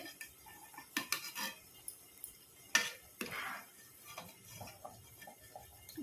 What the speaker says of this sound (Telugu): ఈ రైస్ అంతా కూడా కింద నుండి మీదకి ఒక్కసారి కదిలించాలి